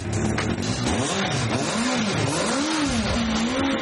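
A home-built ice racer's engine running and revving, a loud close motor whose pitch rises and falls in repeated swells, rough and throaty with no speech over it.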